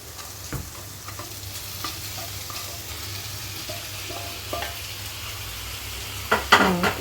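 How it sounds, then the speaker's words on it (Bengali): Paneer frying in a pan with a splash of soy sauce, a soft continuous sizzle with light stirring scrapes, swelling into a louder crackling burst near the end. "এবার পনিরটা এটার মধ্যে দিয়ে দাও"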